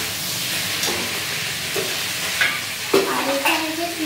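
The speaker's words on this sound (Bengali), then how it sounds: "আর একসাথে ক্যাপসিকামটাও দিয়ে দেবো এরপরে, দিয়ে এটাকে আরও 2-3 মিনিট নাড়াচাড়া করে নেব" Chilli chicken with capsicum is stirred and fried in a pan, a loud, close sizzle carrying a few spatula knocks and scrapes, strongest toward the end, with no talking.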